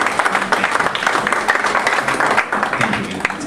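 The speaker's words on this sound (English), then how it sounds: "Can you give a round of applause to Mr. and Ms." An audience applauds Mr. and Ms. Badstone at a community gathering, a dense, steady clapping that fills the whole stretch at close range without letting up.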